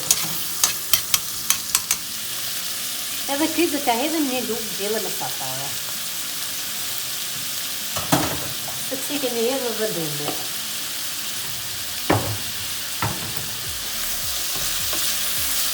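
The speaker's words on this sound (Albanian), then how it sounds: "Vazhdoj me qepën, pra duke gryer, duke hedhur tiganin." Onions frying in olive oil in a pan give a constant hiss and crackle, with occasional spoon scrapes and clinks against the pan, while someone talks over it at moments.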